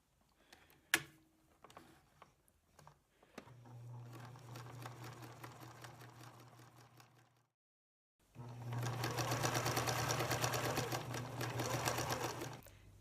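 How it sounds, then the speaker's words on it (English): A sewing machine stitches shut a soft kid-size body pillow sewn from a pant leg, running in two steady, close bursts separated by a short pause, with a few light clicks before it starts. "I'm going to go ahead and stitch this closed."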